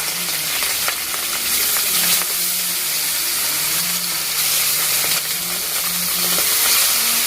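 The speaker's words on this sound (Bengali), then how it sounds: "আর তেল আমার গরম হয়ে গেছে। এবারে মাছগুলো ছেড়ে দেব।" Pieces of bhola river fish fry in hot oil in a pan, a loud, close, continuous sizzle with bubbling crackle and light stirring throughout, no one speaking.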